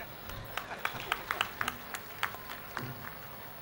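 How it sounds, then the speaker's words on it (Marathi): Mothers in the audience at a speech event clapping, scattered individual claps fairly far off and faint, irregular and sparse rather than full applause, over a quiet hall. "त्यामुळे आयांनी सुरुवातीला टाळ्या वाजवायला हरकत नाही."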